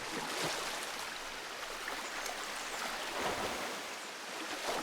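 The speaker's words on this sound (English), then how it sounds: "Now we've got half of the aqueducts flowing with water" Water flowing through aqueducts in the Darksiders 2 video game, a steady, soft rushing and splashing wash that continues evenly without a break.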